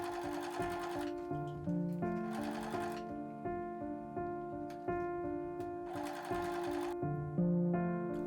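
A sewing machine stitches curved sun hat pieces in repeated runs of rapid mechanical whirring, with short pauses between bursts, close and clear.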